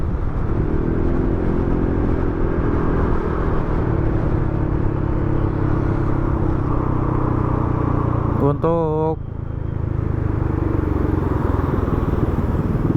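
A Yamaha XMAX scooter engine drones steadily and loudly while riding, a continuous close motor rumble with road noise throughout, briefly joined by a passing horn-like tone near the end; a voice speaks over it.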